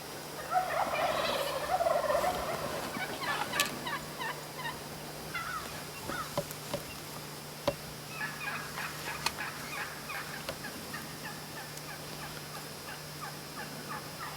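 Several wild Merriam's turkeys gobble in bursts at a moderate distance in Wyoming, gobblers chasing a flock of hens, with scattered clucks and calls overlapping across an open outdoor space.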